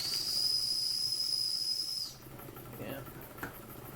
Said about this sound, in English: see if the whistle works